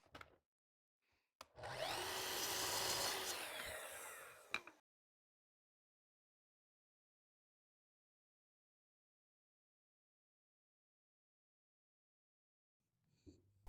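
A woodworking saw cuts boards to length for a small candle holder, giving one loud, rough, roaring cut of about three seconds, followed by a long silence and a faint knock at the end.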